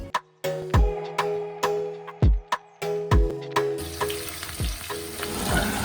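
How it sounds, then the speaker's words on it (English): Jackfruit pieces going into hot oil in a wok, with a series of sharp clinks and drops followed by a rising, dense sizzle of deep frying heard close and alone. "I'm deep frying the kathal"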